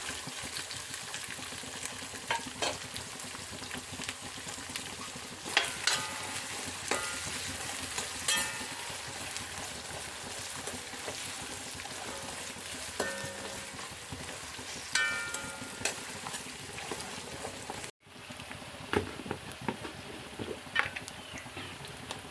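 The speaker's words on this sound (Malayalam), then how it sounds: "ഇനി നമുക്ക് ചെറിയ ഉള്ളി ഇട്ട് കൊടുക്കാം കുറച്ച് കറിവേപ്പിലിടാം" Small onions and curry leaves frying in hot oil for beef liver fry, a loud continuous sizzle with scattered crackles and stirring scrapes throughout, no voices.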